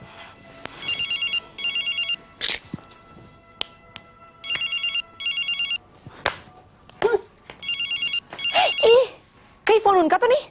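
An old-style telephone bell rings in repeated double bursts, interrupted by people talking and other noises between the rings.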